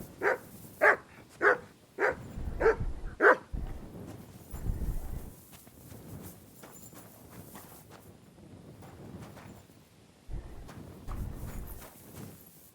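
Dog Mutt barking in Kingdom Come: Deliverance 2, a run of six quick, loud barks at the start, then quieter scuffling and hoof-like clopping, with a few fainter barks near the end.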